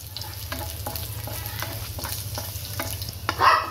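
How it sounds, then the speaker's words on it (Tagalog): Aromatics sautéing in hot oil for sinigang na dorado, a steady close sizzle with several light spatula stirs and scrapes, ending in a louder burst of frying. "Ayan, ginisa."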